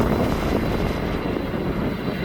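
A cargo jet passing at East Midlands Airport, slowing as it goes by, gives a steady, loud engine roar that holds evenly throughout with no pauses.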